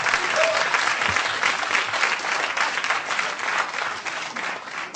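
An audience at a quiz competition applauds in a dense, steady burst of clapping lasting several seconds, fairly close and loud with no talk over it.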